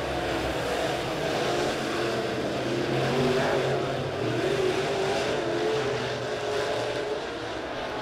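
Super Dirt Series dirt-track race cars roar around Springfield Raceway during a heat race, a continuous loud engine drone with rising and falling revs as the pack passes.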